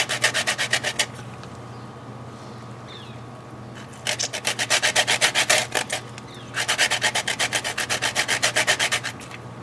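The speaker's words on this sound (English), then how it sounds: "Let's take the leftover half of lemon, the one I juiced it, and put some zest in there" A juiced lemon half is rubbed against a grater for zest in quick rhythmic rasping strokes, three close bursts separated by pauses, over a low steady background hum.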